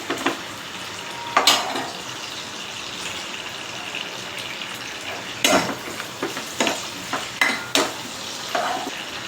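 Onion frying in a pan for a Konkani crab curry, a steady soft sizzle with occasional louder scrapes and stirs of a spoon, close and without talk.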